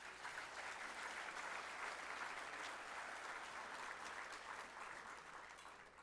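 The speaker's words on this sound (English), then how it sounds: "another round of applause." Sustained audience applause at a San Marcos City Council event, a dense, steady wash of clapping from a crowd that holds at an even level for about six seconds before easing slightly near the end.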